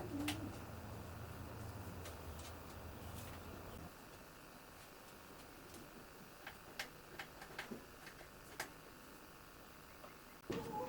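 Show pigeons coo inside a Glasgow loft during breeding season, soft repeated calls over a low hum, with scattered sharp ticks and taps growing more frequent later.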